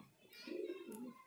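A Bajra pigeon coos in a low, soft warble, one rolling phrase swelling and fading, heard close among a loft of fancy pigeons in Aligarh.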